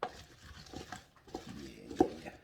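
Buffalo cauliflower stirred in a pan, a spoon scraping and knocking against the bottom in uneven close strokes, with a sharper clack near the end and no talking.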